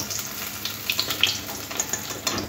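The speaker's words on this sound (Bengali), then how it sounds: "বাকি যে মাছগুলো আছে একইভাবে ভেজে নেব।" Pabda fish frying in hot oil, a close, continuous bright sizzle with crackling spits and small pops rising and falling.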